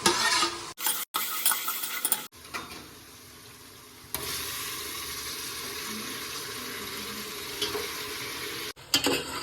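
Onion, tomato, mint and whole spices with cinnamon and cloves being stirred and fried in a pan for chicken biryani, with a sizzle, scraping utensil strokes and a few abrupt knocks and gaps between bursts of activity.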